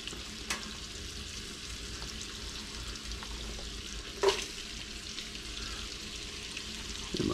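Onions frying in a pot for smoked sausage chili over lowered heat, a steady soft sizzle running throughout, with one brief sharper crackle burst midway and a slight swell at the end.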